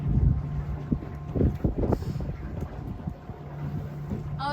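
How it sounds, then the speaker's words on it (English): A Candela C8 electric hydrofoil powerboat motor ramping up on a windy day on the water, a low rumbling drone mixed with gusty wind buffeting the microphone and irregular thumps. "I hope you can still hear me over all that engine noise."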